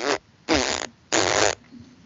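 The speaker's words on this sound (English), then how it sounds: "No, I'd rather fart." Three loud, buzzing fart sounds, each lasting about a third of a second with short gaps between, close up and without talk.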